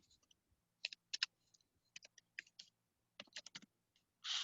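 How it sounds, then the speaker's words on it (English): Someone types a full author name into a citation on a computer keyboard, producing close, light clicks in short uneven runs with brief pauses, then a soft rustle at the very end. "You can just type the full name as it's written"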